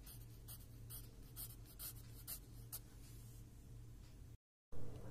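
A pencil shades figures on paper for a class 3 fractions exercise, quiet scratchy strokes in short repeated bursts over a low hum, then a brief gap before a louder ending.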